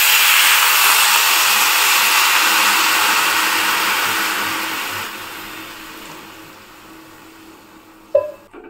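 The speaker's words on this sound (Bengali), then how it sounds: "আর এবার দিয়ে দেব জল।" Water poured onto rice and lentils frying in a pan for khichuri: a loud, hissing sizzle that gradually dies down over several seconds, ending with a brief clink.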